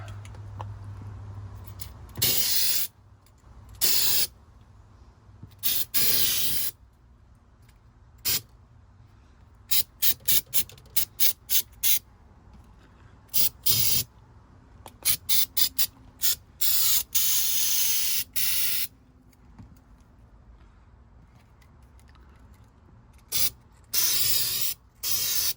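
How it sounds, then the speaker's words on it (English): Eastwood rust protection sprayed from an aerosol can under the floor of a 1989 Range Rover Classic, sharp hissing bursts of varying length, some short and rapid, others sustained, separated by quiet pauses. "I'll come under here and spray"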